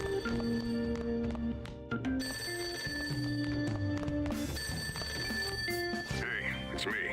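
A telephone rings downstairs in the video game Persona 5 Royal, its bell tones mixed into dense game music and noise, with a voice talking over it.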